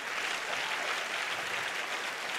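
Congregation applause at a Spanish-language church service, a steady dense wash of many hands clapping together, fairly distant and even throughout.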